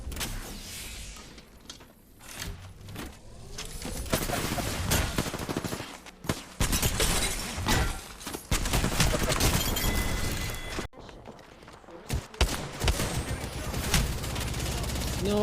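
Rapid automatic gunfire and weapon mechanisms batter Gibraltar's dome shield in a fight in the video game Apex Legends. Loud sustained bursts with brief pauses fill the whole span, and game voice lines sound faintly underneath.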